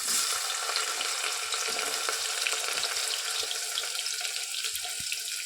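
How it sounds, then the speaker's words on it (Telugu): Chopped onions frying with whole spices in hot oil give a dense, steady sizzle close by, with faint stirring clicks scattered through it and no voices. "ఇవి కాస్త వేగాక కట్ చేసి పెట్టుకున్నటువంటి 2 మీడియం సైజ్ ఆనియన్స్ని వేసేసుకోవాలి"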